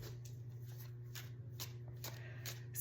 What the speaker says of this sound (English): So I'm going to finish this shuffle.